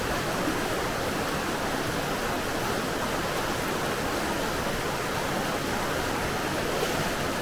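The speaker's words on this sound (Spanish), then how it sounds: "mientras seguimos mojándonos por este agua, por este espectacular torrente en el valle Og" A powerful torrent of water rushes through a desert valley in Israel, producing a loud, continuous roar of churning flow that fills the whole stretch without pause or voices.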